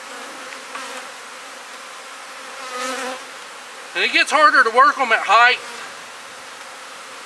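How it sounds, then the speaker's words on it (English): Honey bees buzz in a steady, soft drone around hive boxes at an apiary, while someone talks briefly over the insect hum. "All these bees you see here, they'll work their entrances out"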